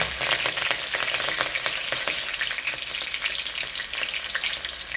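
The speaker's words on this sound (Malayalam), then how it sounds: "നന്നായി ചൂടായി അതിലേക്ക് പച്ചമുളക്, വെളുത്തുള്ളി കേട്ടോ." Green chillies and garlic frying in hot oil, a dense, steady sizzle with crackling pops that runs loud and close throughout, with no talking.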